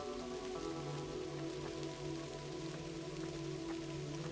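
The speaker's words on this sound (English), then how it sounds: "I'm walking here in the rain, my dear." Steady rain falling in the Kathy Rain video game, a constant even patter of drops on surfaces with soft background music tones underneath, no voices.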